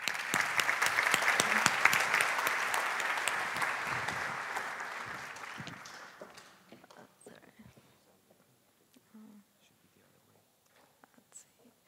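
An audience applauds to welcome Natasha onto the stage at a developer conference, a steady clapping crowd that fades out over several seconds, leaving sparse quiet sounds.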